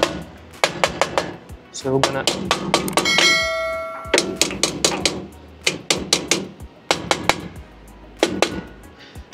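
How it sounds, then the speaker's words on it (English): A plastic hammer taps repeatedly on intermediate pressure valve parts of an A32F engine, sharp knocks in irregular bursts with a brief ringing tone midway, while someone speaks briefly. "you need to hit them with a plastic hammer"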